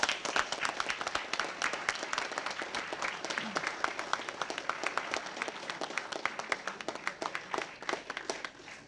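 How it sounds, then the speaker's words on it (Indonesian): Studio audience at an Indonesian comedy quiz show applauds the contestants, a dense, steady clatter of many hands clapping at close range for the whole stretch with no pause. "kita tepuk tangan buat para peserta."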